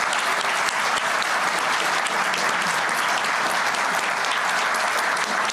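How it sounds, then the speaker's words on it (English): Sustained, loud applause fills a large audience hall at a U.S. government announcement of a fusion energy breakthrough, a dense even wash of many hands clapping continuously with no voices standing out. "Big applause and thank you to the NNSA"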